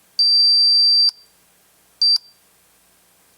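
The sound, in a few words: Jameco motion detector kit alarm beeping when triggered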